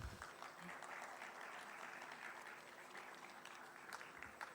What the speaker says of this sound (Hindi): तालियां प्लीज।